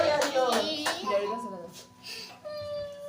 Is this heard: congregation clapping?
yes